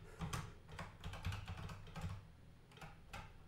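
Typing on a computer keyboard while working in CP/M: a run of quick, irregular key clicks and taps, close and fairly quiet, with no voice over them.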